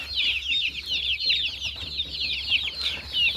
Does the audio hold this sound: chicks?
yes